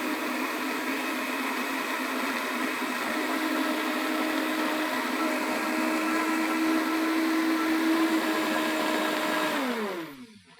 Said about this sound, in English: And then I'm going to blend my sauce.